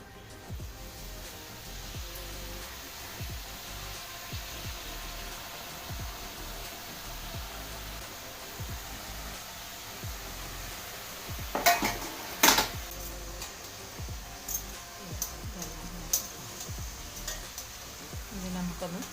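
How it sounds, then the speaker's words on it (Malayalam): Pakkavada dough pressed from a hand press into hot oil: a low frying hiss beneath repeated metallic clanks and scrapes of the press and pan, with a brief louder burst of sizzle partway through. "എണ്ണയൊക്കെ നല്ലപോലെ ചൂടായിട്ടുണ്ട്. ഇനി ഇത് നമുക്കിതിലേക്ക് പീച്ചി കൊടുക്കാം."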